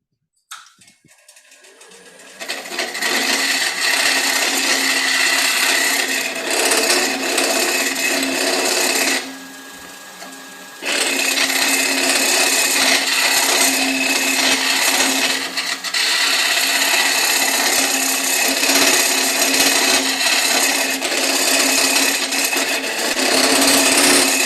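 A woodturning tool cutting wood on a lathe makes a continuous, close rasping roar for most of the clip, with a brief quieter lull partway through and no talking.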